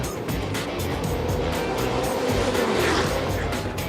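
Race cars bouncing over the kerbs at the Monorail corner during a race, heard as a loud, continuous broadband roar of engines and rumbling tyre noise with a slight swell near the end, and no voices.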